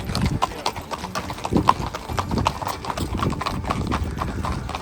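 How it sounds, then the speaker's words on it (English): Horses walk along the Camino Francés pilgrim trail with steady, overlapping hoof clip-clops on the path, close by, while people's voices chatter in the background. "Some people do the Camino on horseback."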